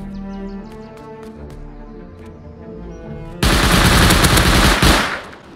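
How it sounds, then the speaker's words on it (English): A Bradley APC in the video game Rust firing its machine gun, a sudden loud sustained burst of rapid fire cutting in after quiet ambient game sounds and lasting about a second and a half. "I heard Bradley shooting at someone"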